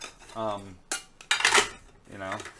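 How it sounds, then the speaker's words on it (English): Pots, pans and cutlery clatter and scrape as they are gathered in storm preparation before a hurricane, with a few close, sharp metallic knocks between short bursts of voice. "Got your pots and pans and stuff for just in case the power goes out."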